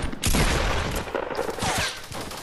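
Fortnite gunfire: a dense, loud volley of rapid shots, close and continuous, easing slightly toward the end, with no voices.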